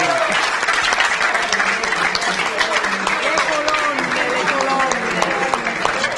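Loud audience applause for club staff at a team celebration event, dense sustained clapping throughout with voices and cheering mixed in and talk running over it.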